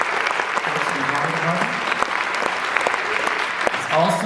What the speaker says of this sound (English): Let's give a round of applause for our folks in the drama